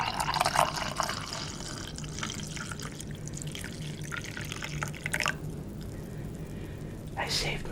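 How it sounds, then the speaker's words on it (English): Coffee poured into a cup already holding sugar and milk, a soft trickle and splashing of liquid at close range, with brief drips, faint and steady against a quiet background. "Let's pour the coffee."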